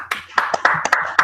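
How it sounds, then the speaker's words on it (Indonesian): A small classroom group claps briefly for a student: a quick run of about seven uneven, close handclaps. "Yuk, kita beri tepuk tangan yang meriah untuk Judika yuk."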